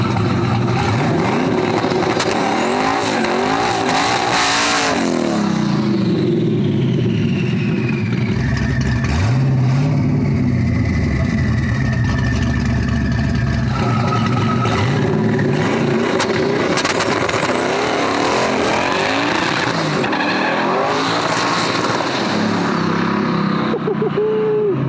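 A 1200 whp Hyundai Genesis coupe launching in a 1-2 dig, a loud engine roaring and revving hard with rising and falling pitch sweeps, sustained and close throughout.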